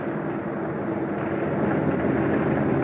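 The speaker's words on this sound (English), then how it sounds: "The sound of the engines warming up starts before dawn, echoing back from the mountains that flank the field." Heavy and medium WWII bombers warm up their engines on Kiska airfield in the Aleutians before dawn. The sound is a steady, loud, broadband engine drone that swells slightly toward the end, with no speech over it.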